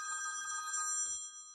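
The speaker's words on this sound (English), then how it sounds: "My husband's phone now is ringing." A telephone rings with a steady electronic tone that holds for about a second and then cuts off, fairly clear and alone, with a faint thump near the end.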